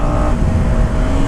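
A KTM Duke 250 motorcycle engine drones loudly and steadily while downshifting with a bidirectional quick shifter and no clutch, a continuous close-up roar with no talking.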